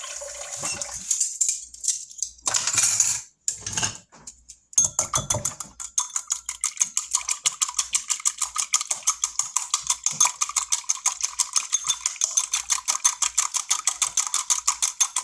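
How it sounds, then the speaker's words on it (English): A fork or whisk beats eggs with a spoonful of water in a bowl, brisk rapid clinking strokes against the bowl in a fast, even rhythm after a few scattered knocks and scrapes, close and clear with no talking. "And you're going to mix it in with your eggs."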